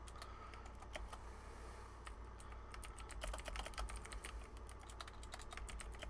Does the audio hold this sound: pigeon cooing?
no